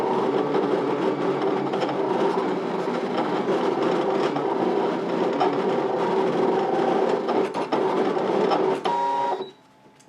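A Brother Scan n Cut machine cutting duplicate die-cut shapes whirs with a steady motorized hum and buzzing carriage movement, close and continuous, with brief stepping clicks near the end before it stops.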